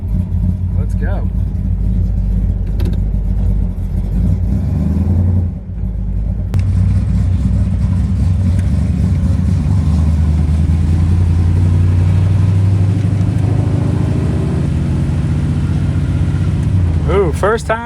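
A car powered by a Small Block Chevy 350 with an HEI distributor drives off and accelerates, its loud engine rumbling and rising through the gears close by, steady and powerful throughout.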